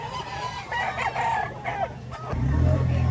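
A young fighting stag rooster crows nearby, loud and clear, its call rising and falling before fading into low background noise at a Lipa City, Batangas gamefowl seller.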